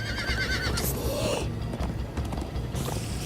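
Horses whinny and gallop with rapid clip-clop hoofbeats in the Minecraft: Story Mode video game, loud and continuous alongside game music.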